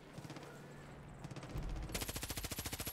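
Rapid automatic gunfire strafing in the Far Cry 5 co-op campaign, a dense rhythmic burst that builds and grows louder toward the end, with no talk over it.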